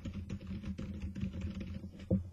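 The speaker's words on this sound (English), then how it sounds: "Hey guys, I've just plugged in this new keyboard. Look at its awesomeness. And just listen to how much quieter it is." Typing on an Emprex Cheetah USB gaming keyboard, a fairly quiet board: steady rapid keystrokes clacking close by for a couple of seconds, with one slightly louder key press near the end.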